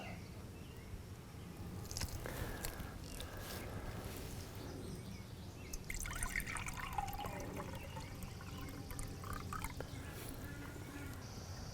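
Water drawn off the top through a primitive survival filter, a soft continuous trickle and gurgle with faint drips and handling noises, fairly quiet throughout.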